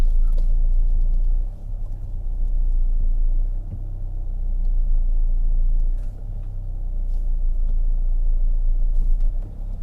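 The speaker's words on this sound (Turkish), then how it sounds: "Koskoca arabamızı bu kadar dar alana tek hamlede park edeceğiz." A Renault Kangoo diesel van with a smart clutch idles and creeps at low revs while parking in a tight space, a steady low engine rumble with slight swells, heard from inside the cab with no talking.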